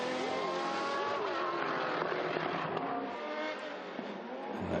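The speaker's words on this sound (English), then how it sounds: "Fantastic to see and hear that glorious wail of the Jaguar V12 engine." A Jaguar V12 racing engine wails high and sustained at full throttle during historic racing at Estoril, loud and close, with harmonics shifting as the car accelerates and changes gear.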